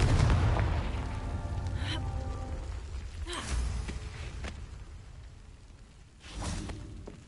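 Confringo fire-blast spell explosions in the Hogwarts Legacy video game, several deep booming blasts with whooshing bursts, one near the start and louder ones around the middle and end, over a constant low rumble.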